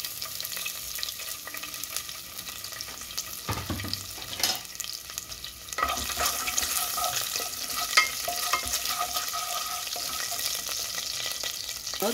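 Ginger sautéing in a pan for a chicken dish, with a steady oil sizzle and scraping stirs, a sharp clatter a few seconds in and a louder burst of frying partway through, close by with no talk.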